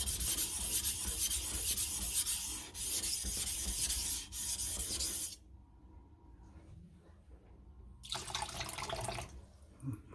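A kitchen knife is honed on a whetstone along its bevel, near and loud, in repeated scraping strokes that break off into quiet pauses before the rubbing starts again.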